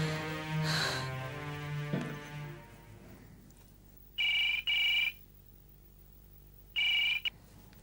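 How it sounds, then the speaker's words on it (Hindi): A telephone in a classic Hindi TV drama rings twice in short double-burst electronic trills after background music fades, clear and close. "मिस्टर बजाज, कहिए आपने कैसे फोन किया"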